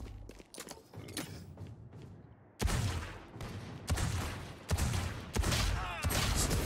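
Video game gunfire in a Lego-themed shooter, sharp bursts of shots and rapid volleys going off in loud clusters with brief gaps, some faint talk between them.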